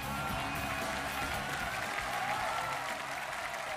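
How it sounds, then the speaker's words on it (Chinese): A television studio audience claps to welcome a 91-year-old contestant on a Chinese talent show, an even, sustained burst of applause from many hands that fills the whole few seconds. "掌声欢迎91岁的谭奶奶"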